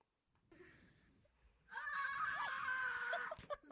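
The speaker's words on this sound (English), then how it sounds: "Maybe you have some audio of her screaming." A woman with her head stuck in a Barney costume head screams in a loud, sustained, strained cry that rises after a quieter start and cuts off near the end.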